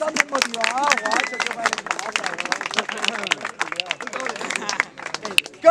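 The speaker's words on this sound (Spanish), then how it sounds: "¡Un fuerte aplauso!" At an outdoor freestyle rap battle, a crowd claps and cheers in a lively, uneven burst mixed with shouting voices and chatter, fairly close.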